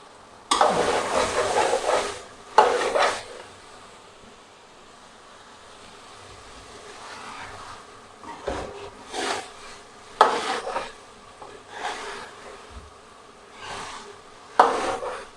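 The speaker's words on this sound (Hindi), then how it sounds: "अब हम इसमें डालेंगे लोबिया।" Soaked black-eyed beans (lobia) tip into a pot of chicken and tomatoes, giving several bursts of clatter and scraping stirs over a steady low sizzle, with quieter gaps between them.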